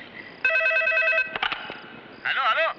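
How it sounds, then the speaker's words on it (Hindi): A telephone rings with a bright, buzzing electronic tone, followed by clicks and a voice speaking briefly. "अरे उठा रहे, फोन उठा ना।"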